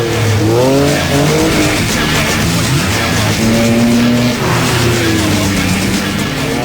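A quick car driven hard around a track, its engine note climbing and falling continuously through the corners, loud and close, with sustained revving and some tyre scrub and no voices.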